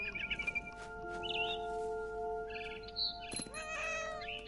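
A cat meows in the video game What Remains of Edith Finch. Several short, fairly quiet mewing calls come over a soft musical ambience, with a sharper cluster of sounds near the end.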